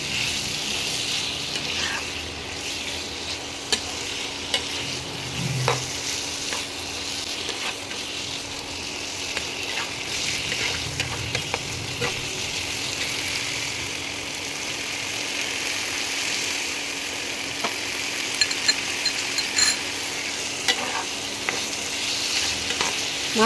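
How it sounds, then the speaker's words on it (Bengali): Chicken pieces frying with spices in an oily pan for a chana murgh curry, a steady broadband sizzle running throughout with occasional scraping stirs, close and fairly loud, no talking. "মাংসটা দিয়ে মশলার সঙ্গে মাংসটাকে এবারে কষাতে হবে।"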